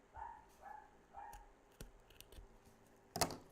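Scissors trim the fabric edge of a zipper while a bag is being sewn, producing a few faint, sharp snips, the loudest near the end, over quiet room noise.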